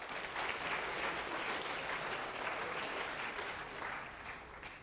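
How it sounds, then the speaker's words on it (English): A lecture hall audience claps steadily for a student, a dense, even wash of applause lasting several seconds and fading slightly at the end. "Let's give another round of applause for Patrick."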